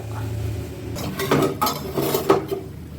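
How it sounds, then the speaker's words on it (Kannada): A metal frying pan clanks down on a stove, with a few close, sharp knocks and scrapes of cookware. "ಮೊದಲಿಗೆ ಬಾಣಲೆ ಇಟ್ಕೊಂಡು 4-5 ಸ್ಪೂನಷ್ಟು ಎಣ್ಣೆ ಹಾಕೋತಿದ್ದೀನಿ"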